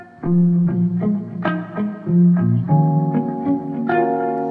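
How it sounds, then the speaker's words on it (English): A melodic synth or sampled phrase with lush reverb, each note ringing out and blurring into the next, loud and alone. "Let's add reverb too."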